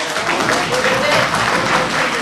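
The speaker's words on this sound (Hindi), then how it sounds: "इन्हीं के साथ फिर से एक बार जोरदार तालियां" Burst of enthusiastic clapping from an audience honoring someone at a Hindi-speaking gathering, dense and close, filling the whole short stretch with voices mixed in.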